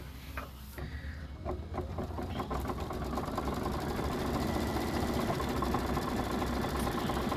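An embroidery machine stitches detail inside a plate design, a steady close mechanical hum with fast repetitive needle ticking that builds slightly and holds.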